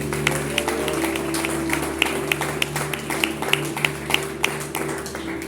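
A church congregation claps for Jesus in a fairly steady, moderate wash of applause, with sharper individual claps poking through at irregular intervals.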